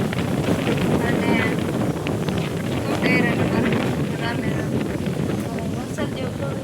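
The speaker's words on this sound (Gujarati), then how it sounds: "બધું ઉડે, બહુ જાજો પવન." Strong wind blowing outdoors, a constant loud rushing roar that buffets the microphone through the whole stretch, with no break or pause.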